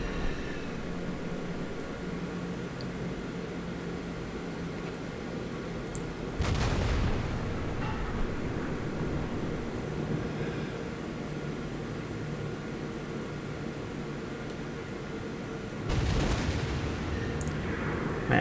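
Battleship naval gunfire from the Nagato in a naval warfare game, heard as two heavy broadband salvo blasts several seconds apart over a steady low engine and sea rumble.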